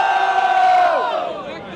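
Crowd at a 2016 rap battle in São Gonçalo, Brazil, roaring and yelling loudly at close range, a sustained wave of cheers that slowly fades toward the end.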